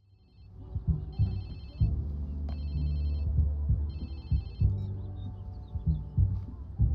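A phone rings in the video game Watch Dogs 2, repeated trilling electronic ring bursts over a heavy pulsing low heartbeat-like throb and rumbling game sound.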